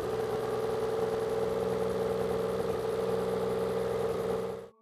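A 40-hp outboard boat engine runs at a steady, even pitch, loud and close, holding constant for almost five seconds before cutting off abruptly at the end.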